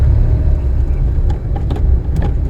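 A car engine in a driving lesson rumbles with a low, steady growl close by, its loudness holding fairly even with a few light clicks and knocks over it.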